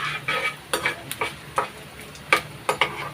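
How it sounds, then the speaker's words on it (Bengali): Food frying in a pan for a tangy fish-roe dish, a steady sizzle with regular spatula scrapes and taps as it is stirred, close and clear. "ওর জন্য এখানে আমি এখন ভাজতে দিয়েছি"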